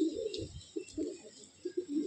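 An Andhra pigeon coos in low, soft bursts inside a breeding loft, close by and fairly quiet, with short pauses between the calls.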